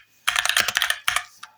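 Computer keyboard typing while writing code for a PyTorch neural net: a close, rapid run of key clicks in two bursts separated by a short pause, with no talking.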